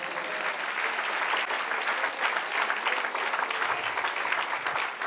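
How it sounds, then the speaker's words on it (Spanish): A church congregation applauds steadily, a dense wash of many hands clapping at moderate volume throughout, with no other sounds standing out. "Denle un aplauso al Señor."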